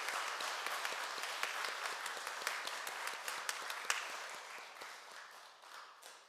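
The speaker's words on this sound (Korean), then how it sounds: "큰 박수, 격려의 박수 올려주셨으면 좋겠습니다." Applause of encouragement from a congregation at a Won Buddhist temple service, a dense, steady wash of many hands clapping that holds for several seconds and then gradually thins and fades toward the end.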